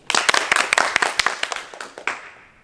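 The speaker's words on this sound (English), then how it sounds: "Let's give Mr. Hill another round of applause for his valuable assembly message about respect." Claps ring out at a primary school assembly in a hall, a loose run of distinct, fairly close handclaps that thin out and fade near the end.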